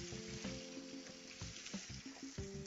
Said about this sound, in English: I'm going to add a little bit more olive oil to the pan for the steak.